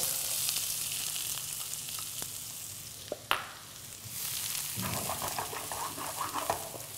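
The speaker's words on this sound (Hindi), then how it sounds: "पैन में तेल गरम कर लिया है और इसमें डालेंगे बारीक कटे हुए प्याज" Finely chopped onions sizzle in hot oil in a pan, a steady frying hiss with a sharp clatter midway, then a louder burst of sizzling as more goes in.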